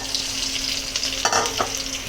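Crushed ginger and garlic fry in hot oil with a steady, close sizzle, broken by a brief stirring clatter near the end and no voices.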